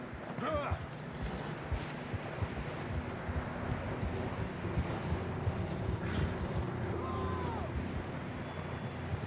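Horse hooves clop in the video game Red Dead Redemption 2, a steady rhythm running through wind and outdoor ambience, with voices speaking over it.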